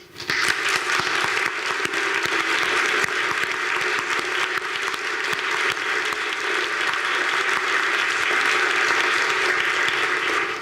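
An audience claps steadily and loudly for a speaker being welcomed onto the stage at a talk, the applause holding up without a break from start to finish.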